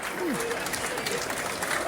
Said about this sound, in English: More applause down there for Kevin Nisbet and Billy Mitch.